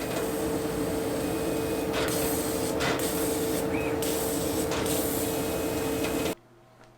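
A laser cutter working through quarter-inch solid black acrylic to cut parts for a BMW 700, giving a steady loud hiss of air assist and fans with brief shifts, then cutting off abruptly near the end.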